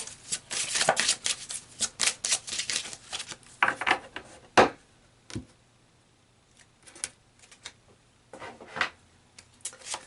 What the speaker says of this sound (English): let's pull some more cards for some advice